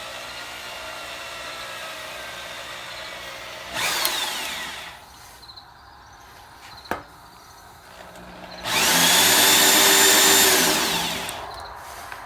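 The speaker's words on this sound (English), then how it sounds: "Make sure the drill's going the right way first, usually helps." An electric drill bores through timber in two separate bursts, the second longer and louder, with quiet handling noise and a sharp knock between them.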